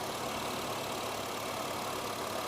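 A car engine idles steadily with the air conditioning switched on and the blower on its lowest setting, a continuous, even hum and whir close by with no voices.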